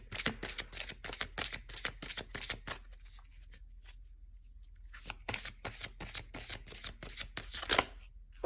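Chakra oracle cards are shuffled in two quick runs of rapid riffling flutters, split by a brief quiet pause, with crisp close-up papery snaps.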